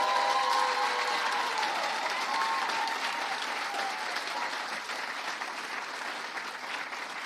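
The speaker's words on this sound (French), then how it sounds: "Oui, vous pouvez vous applaudir encore un peu." A crowd at a graduation ceremony in Gatineau applauds continuously, a dense wash of clapping with a few faint whistles early, gradually thinning slightly toward the end.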